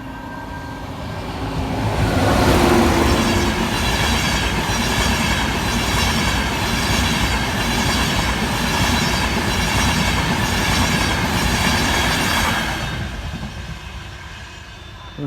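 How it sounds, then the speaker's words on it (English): A train rumbles past nearby in the Doncaster area for several seconds, wheels clattering rhythmically over the rails before the roar gradually fades. "Here's train 1."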